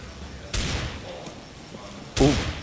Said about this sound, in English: 2 big deagle shots